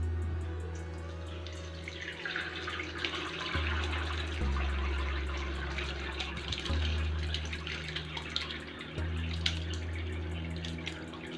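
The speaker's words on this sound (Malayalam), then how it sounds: "സ്ട്രെയിനറിനകത്തേക്ക് നമ്മുടെ ആദ്യം പാല് പിരിച്ചത് ഇതിനകത്തേക്ക് ഒഴിച്ചു കൊടുക്കാം" Curdled milk for homemade paneer pours into a strainer, a steady splashing trickle of liquid close by, continuous with slight surges and no talk.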